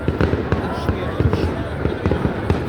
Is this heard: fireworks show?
yes